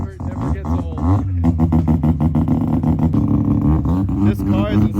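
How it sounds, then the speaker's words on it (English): A rotary-swapped Subaru BRZ sits indoors on a snowy day with its engine running loudly, a steady, rumbling, close drone that fills the whole stretch, with voices faintly underneath. "This car is insanely loud."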